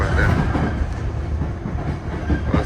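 A London Underground Piccadilly line train pulls out of Cockfosters station, its loud rumbling roll and rhythmic clickety-clack of wheels on rail joints filling the carriage steadily, with no voices.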